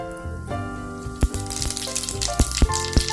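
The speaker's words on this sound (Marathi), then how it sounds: "राई तडतडली" Mustard seeds splutter in hot oil in a pan, a steady sizzle broken by sharp, irregular pops and crackles, close up with no voices.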